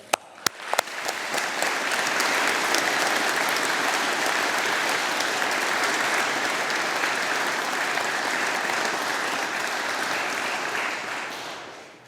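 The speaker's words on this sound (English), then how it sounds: "a round of applause from all of us here" A large graduation audience in an engineering faculty hall applauds the 2021 graduates, a dense, sustained wash of clapping that starts with a few sharp claps and holds steady for about twelve seconds before tapering.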